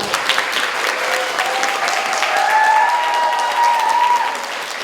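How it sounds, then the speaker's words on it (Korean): An audience at a public forum applauds to welcome a speaker, a dense, sustained wash of many hands clapping together at a steady level for several seconds. "박수로 맞이해주세요."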